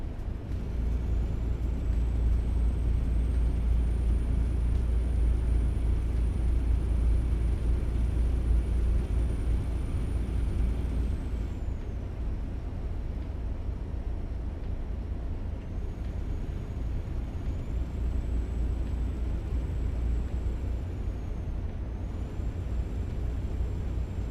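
Truck cab driving in Euro Truck Simulator 2: a steady, heavy low engine rumble runs throughout with a faint high whine rising and shifting, no voices.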